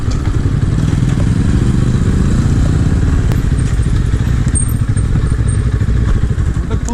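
Small-displacement motorcycles ride along a road on a trip from Belarus to Georgia, heading toward Batumi: a steady, loud engine drone with wind rumble and occasional clatter and thuds, continuous throughout with no talk.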